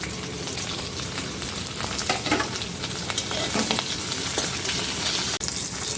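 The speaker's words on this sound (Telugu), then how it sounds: "ఉల్లిపాయ ముక్కలు వేస్తున్నాను. పచ్చిమిరపకాయ ముక్కలు వేస్తున్నాను." Onion and green chilli pieces frying in a pan for a chilli mushroom starter, a continuous close crackling sizzle with stirring and scraping throughout.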